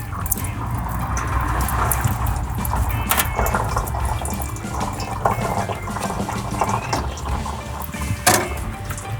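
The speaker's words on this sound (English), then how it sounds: "Draining the radiator took some time." Coolant drains from the radiator of a Cadillac Seville during a cooling system flush. A continuous close splashing, gurgling liquid flow with a few clanks runs throughout, loud and unbroken.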